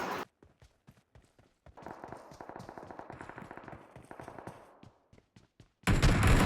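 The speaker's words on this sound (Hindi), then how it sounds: "इतने में मेरे को गन का साउंड आता है" Gunfire in the mobile battle royale game BGMI, crackling as a run of rapid, fairly faint shots in the middle, with a sudden louder burst of noise at the end.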